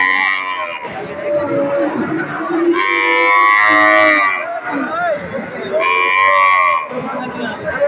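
A cow moos loudly in long, drawn-out calls at a cattle market in Thakurgaon, Bangladesh, with people talking close by throughout.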